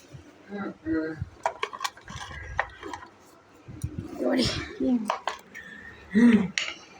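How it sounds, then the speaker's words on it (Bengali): A knife cuts through a papaya in a home kitchen, giving scattered scraping and clinking strikes against a plate or board, with a voice talking softly in between. "এই যে কাটবো পেঁপে"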